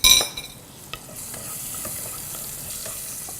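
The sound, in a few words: chilies sizzling as they are added to hot pan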